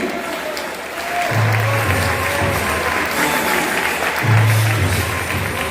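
An audience at a Galician neo-professional sporting event in Madrid applauding two competitors after a hard-fought match, with sustained, dense clapping that swells and continues throughout, plus some crowd noise.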